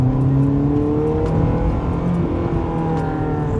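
A Honda S2000 fitted with an EVS Tuning single-exit exhaust cruises at low throttle in city driving, its engine holding a steady, moderately loud drone with gently rising and falling tones heard from inside the car.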